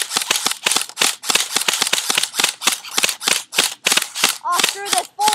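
An airsoft gun fires semi-auto at a knife and fork, with roughly twenty sharp, close, loud cracks in a quick, slightly uneven rhythm. A few ringing metallic pings sound near the end.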